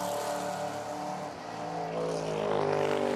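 A race car engine at the Bathurst 12 Hour endurance race, a distant, fairly faint roar that swells and fades over a broad background wash, with no speech.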